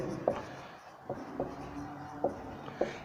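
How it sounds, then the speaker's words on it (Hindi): Marker or chalk scratches on a board during a thermodynamics lecture, a few short separate strokes at an uneven pace over a quiet room hum, faint and close. "तो लिखेंगे द प्रोसेस"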